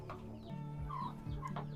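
Indio Gigante chickens in a coop making low, short clucks and murmuring calls, a few close birds vocalizing in quick bursts, fairly quiet with no talk.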